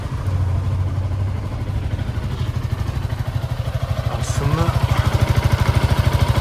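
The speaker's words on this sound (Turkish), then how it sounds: "Evet, bir de motoru çalıştıralım." A motorcycle engine, a newly bought used bike with very old oil, starts up and settles into a steady, loud idle with a regular low rhythmic pulse, while someone speaks briefly over it.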